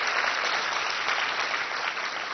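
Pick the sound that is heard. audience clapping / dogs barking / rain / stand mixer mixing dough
audience clapping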